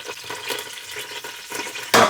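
Greens cooking in a hot pan, with a continuous soft sizzle and bubbling punctuated by light stirring scrapes, ending in a louder burst of sizzle near the close.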